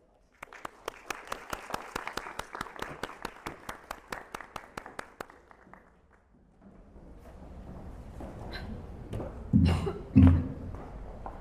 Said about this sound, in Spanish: Un aplauso, por